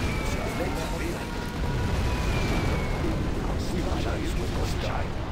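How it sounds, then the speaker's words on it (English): A nuclear missile launch explosion in Command & Conquer Generals Zero Hour gives a dense, sustained roaring blast with crackling bursts. Game voice lines are heard over the noise. "We have launched our nuclear missile."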